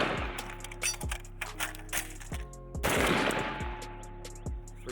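AR-15 rifle fired during a reload drill, a quick string of sharp, loud gunshots with a brief pause and metallic handling in between, followed by more rapid shots.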